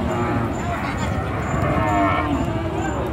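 A cow moos in a long, drawn-out call amid the steady din of a busy Monirampur cattle market, with crowd noise and murmuring voices underneath.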